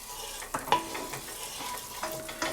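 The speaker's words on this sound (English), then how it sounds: "So I'm taking a tablespoon of butter and just coating the bottom of the pan." Butter sizzles softly in a preheated non-stick frying pan as it spreads across the bottom, a steady low crackle broken by a few brief clinks and scrapes.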